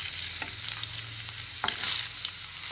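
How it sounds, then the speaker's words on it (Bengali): Paneer frying lightly in a little oil, a steady, close sizzle with a soft hum underneath and a few faint stirring clicks. "একটু হালকা করে, একটু সামান্য লালচে করে আমি ভেজে নেব"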